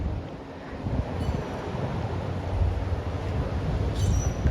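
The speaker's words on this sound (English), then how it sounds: "It's just the sea" Steady surf washes along the shore at Vero Beach, Florida, a continuous low roar of waves mixed with wind buffeting the microphone, moderately loud with no voices.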